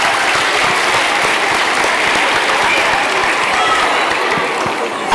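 Audience applause at a school debate event, loud continuous clapping from a room full of people, steady and close, with some speech mixed in.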